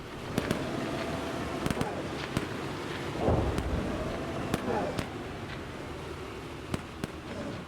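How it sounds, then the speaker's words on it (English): Artillery shells exploding in the PC tank game Gunner, HEAT, PC!, scattered thuds and a heavier rumbling blast around the midpoint, moderately loud over steady engine and wind noise. "Artillery falling all around us."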